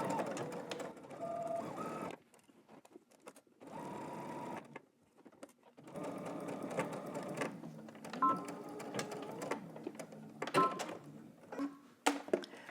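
Home sewing machine stitching a garment seam at 5/8-inch allowance, running in several bursts of steady mechanical whirring separated by short pauses, close and clear with no voices.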